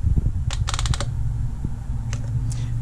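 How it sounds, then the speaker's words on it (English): Quick clusters of small, sharp mechanical clicks over a steady low hum from a Graef CM702 coffee grinder as its burr cone is rotated, a rapid run at first and then a few scattered clicks. "when I rotate this cone right or left clockwise, you hear this clicking sound"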